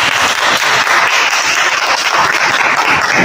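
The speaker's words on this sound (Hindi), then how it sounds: "एक बार जोरदार तालियां।" Loud, dense applause from an audience at an All India Postal Union gathering, a steady wash of many hands clapping throughout without a break.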